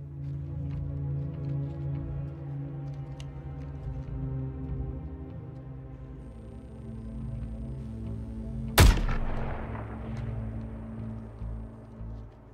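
A single sharp, loud sniper shot cracks out over a low droning background in the action game Suicide Squad: Kill the Justice League, followed by a brief decaying echo.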